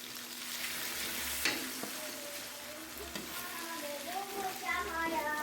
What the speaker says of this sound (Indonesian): Aduk-aduk sampai bumbunya masak dan tercampur rata.